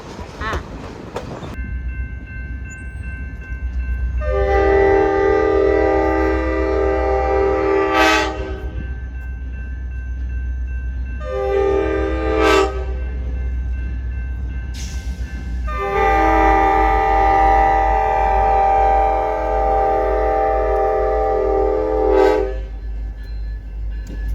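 The Grand Canyon Railway train rumbles steadily arriving at Williams depot while its horn sounds in long, loud harmonic blasts, three separate honks, with a brief gap between them.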